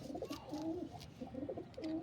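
A female pigeon cooing in soft repeated low coos, close and clear, with faint background noise.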